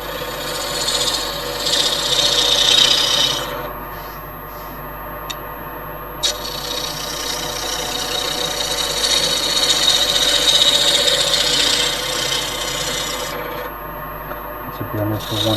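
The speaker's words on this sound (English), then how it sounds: "Full gouge." Gouge carving a large rotten wooden bowl with a size 8 full gouge, giving steady close scraping and rasping cuts that pause briefly partway through and then resume.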